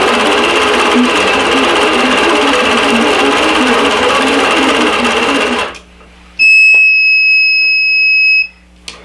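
Sewing machine running steadily during quilting, a loud, close, continuous mechanical whir that stops abruptly near the end, followed by a sustained electronic beep tone.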